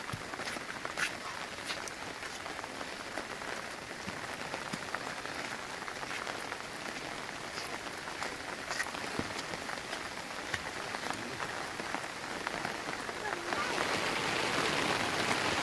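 Heavy rain falls on a hillside village in the Konkan, a dense, steady patter that swells toward the end, with voices talking faintly underneath.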